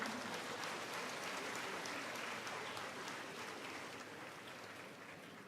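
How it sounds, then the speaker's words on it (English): Audience applauds at a formal gathering honoring His Holiness, a dense, steady wash of clapping from many hands at middling distance that slowly tapers off. "please give yourself a round of applause"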